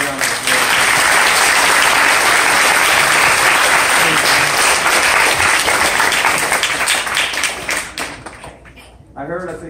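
A graduation crowd gives teachers and the principal a loud, sustained ovation of massed clapping that swells evenly, then tapers and breaks into scattered claps near the end.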